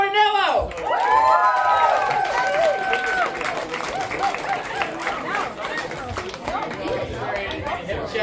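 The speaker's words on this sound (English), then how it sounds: "Please, guys, give a round of applause for Danny Martinello." Audience applause and cheering for a comedian at a comedy night in a pub, loud at first and settling into lively crowd chatter and clapping, with a voice speaking over it near the start.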